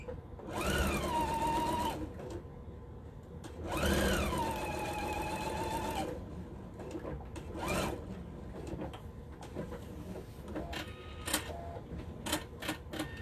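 A sewing machine stitches a tea towel in bursts: two long whirring runs, then shorter stitching spurts with clicks and handling noises between them, close and clear, no speech.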